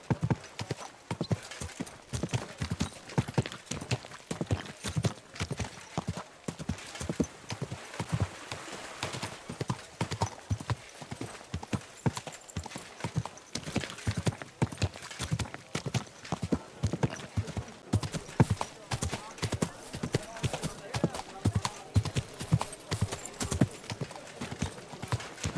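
Horse hooves clip-clopping in Kingdom Come Deliverance II, a steady rhythmic trot of close, crisp hoofbeats continuing throughout, with an occasional faint whinny.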